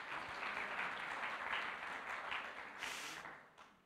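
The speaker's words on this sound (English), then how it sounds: "Let's give him a big hand clap" A church congregation clapping hands for a newly introduced member, a sustained moderate round of applause that swells, then thins and tapers away toward the end.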